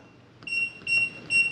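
A Kwikset 914 smart deadbolt lock gives three short, clear electronic beeps in quick succession, close and alone in a quiet room.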